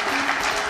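Crowd applause acclaiming the election of a new CAF president, a dense steady clatter of many hands clapping, continuous and fairly loud throughout.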